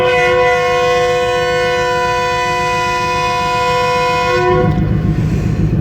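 A Subah Raftar rail car sounds its horn with a long, loud, sustained tonal blast that stops near the end, leaving the train's engine rumble beneath.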